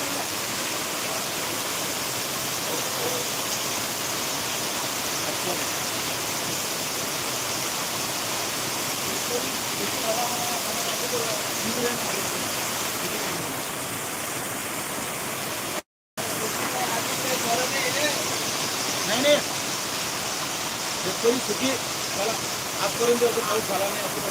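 Heavy rain falling in Sangrampur, a dense, steady roar of downpour that holds the whole time, broken only by a split-second dropout.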